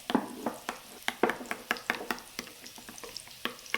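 A spoon stirring coriander powder, garam masala and other spice powders together in a bowl, giving a quick run of close, crisp scraping clicks and taps with no talking.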